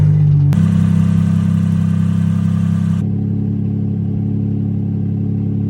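Suzuki Cappuccino engine drones steadily at close range while the car is driven, with a brief rise in revs early on, then a lower, even hum continuing to the end with no talking.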